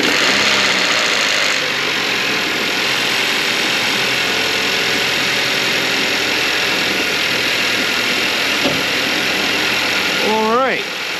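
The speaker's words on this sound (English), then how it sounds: "The engine started right up with minimal issues. It gave a little rapping, but now it's just cold start." Car engine on a cold start after oil-leak repairs, running steadily at a loud idle with a faint rapping knock throughout, a brief rising tone near the end.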